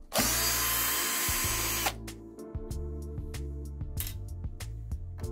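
Power tool removing screws from a JBL Bar 1000 soundbar during a teardown: a loud continuous whine for about two seconds, then a series of short clicks and rattling bursts close by.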